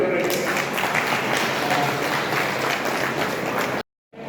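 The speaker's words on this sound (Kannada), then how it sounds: "ಅದಕ್ಕೆ ನೀವು ಚಪ್ಪಾಳೆ ಹೊಡಿಬೇಕು" An audience at a cooperative society meeting claps for the staff, a steady, fairly loud round of applause that stops abruptly before a brief silence.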